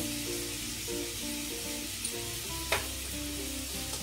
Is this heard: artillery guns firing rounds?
no